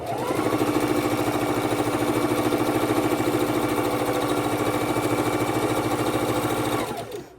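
A sewing machine runs steadily for about seven seconds, stitching four-patch quilt block seams with nested seams, a fast, even mechanical whir and rapid needle chatter, close and loud, stopping abruptly at the end.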